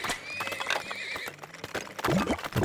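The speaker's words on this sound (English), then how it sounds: "Let's make sure we grab horses this time." Horses neighing in the video game Turmoil: a short burst of close, loud whinnies with wavering pitch and a few hoof clops, lasting under three seconds.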